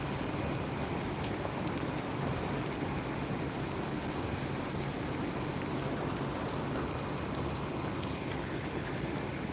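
Steady rain falls outdoors at a Gloucester station where trains and buses pass, a continuous broadband wash of pattering drops with wind buffeting the microphone and no talking.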